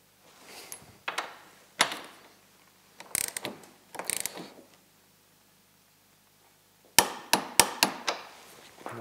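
A ratchet clicks in several bursts while tightening a torqued bolt on a Ski-Doo Freeride snowmobile's belt drive conversion; close, sharp ratcheting strokes with pauses, no talking.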